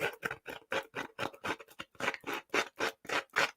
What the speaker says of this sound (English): get my scissors and rough up the edges